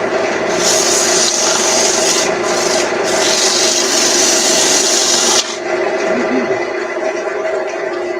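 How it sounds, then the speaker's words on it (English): Continuous scratchy rasping of 150-grit sandpaper rubbed back and forth on wood, close and loud, with a brief break in the strokes near the end. "maybe I'll get a little bit more aggressive sandpaper and see what that will do."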